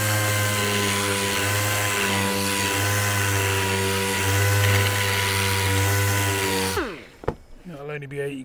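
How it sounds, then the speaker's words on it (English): A power sander works the edge of a Suzuki Wagon R wheel trim with 80 grit paper, a loud steady high whine holding for several seconds before spinning down and stopping, followed by faint handling noises. "just sand around the edge"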